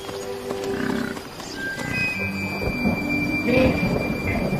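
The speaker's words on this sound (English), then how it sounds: "Storm clouds gather, and finally the weather turns. The arrival of rain changes everything." A thunderstorm with rain sweeps over the African savanna, low rumbling thunder rolling under steady rainfall, with scattered animal calls and bird chirps mixed in.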